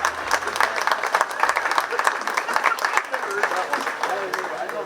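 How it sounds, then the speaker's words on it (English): A crowd at a county fair 4-H bottle calf show claps for the helpers, steady moderate applause continuing for several seconds with murmured voices underneath. "please give them a round of applause for coming up today"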